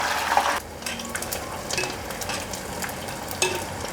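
Oyster mushrooms deep-frying in hot oil, a continuous close sizzle and crackle with a brief stir or turning clatter near the start, then steady bubbling with occasional sharper pops.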